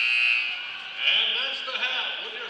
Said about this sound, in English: buzzer that went off.